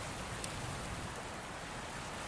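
Steady rain falling in a dense, even hiss with faint scattered drop ticks, continuous and unbroken, set as a sound effect in a wartime Normandy narration.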